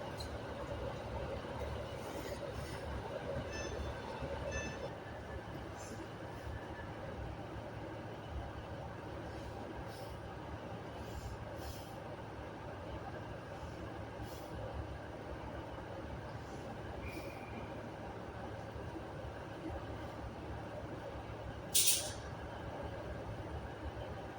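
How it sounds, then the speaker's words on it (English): A Class 390 electric train, unit 390 118, on the Glasgow Central to London Euston service at Carlisle station, gives off a steady low rumble for a long stretch, with a brief sharp squeal near the end. "the Advantage service from Glasgow Central to London Euston, worked by 390 118"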